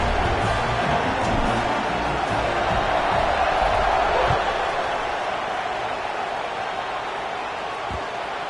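Stadium crowd at a college football kickoff with UConn playing, a broad steady roar of many voices filling the air, fairly loud and continuous, easing slightly toward the end.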